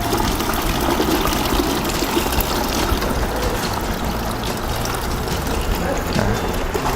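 Water drains out of an ICR-AC-25CTW soft ice cream machine after a lever is pulled, giving a steady, close gushing flow that runs loud and unbroken throughout.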